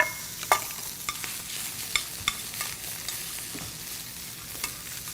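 Lobster roe butter cooks in a pan with a steady, close sizzle, broken by occasional sharp pops and spatters; no one speaks.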